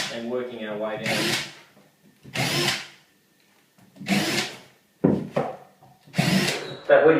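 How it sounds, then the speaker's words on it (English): Short bursts from a power drill cut holes into a shelf bracket, roughly five bursts spaced a second or so apart, with someone speaking briefly before and between them. "So all you need to do is drill the top row along there."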